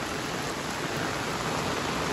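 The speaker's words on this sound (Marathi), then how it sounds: "पाऊस काय थांबत नाही आहे." Steady rain falls during a monsoon day in the Konkan region, an even, dense hiss of drops that continues without a break throughout, with no voices.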